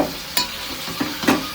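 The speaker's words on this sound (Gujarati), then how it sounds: "હા, સનસનાટી બોલે, કારણ કે આપણે ભાજી વોશ કરીએ એટલે એમાં થોડું પાણી હોય એટલા માટે." Washed spinach leaves sizzle and crackle in a hot pan, with a few short stirring scrapes and bursts of frying over a brief stretch and no talk.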